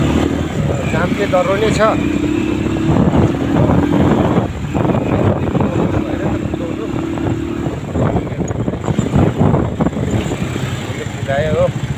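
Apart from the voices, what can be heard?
riding a motorbike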